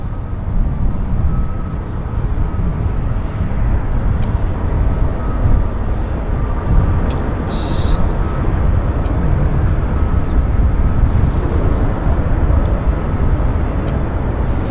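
WestJet aircraft departing Vancouver airport: a steady, loud, broad jet engine roar that holds throughout with no speech.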